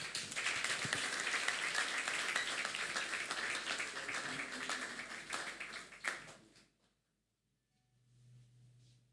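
Applause from a church congregation at a Sunday service, a dense burst of clapping that fades out after about six seconds into near silence.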